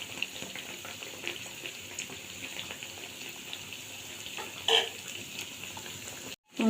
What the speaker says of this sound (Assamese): এতিয়া মই লাহে লাহে দি দিছোঁ কচুৰি। এয়া কচুৰি কেনেকুৱাকৈ ফুলি আহিছে